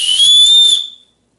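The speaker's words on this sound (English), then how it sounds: "your chest belt, which comes with an emergency whistle." Emergency whistle on a 65-liter backpack chest belt blown once, a single shrill close whistle blast lasting under a second and cutting off quickly.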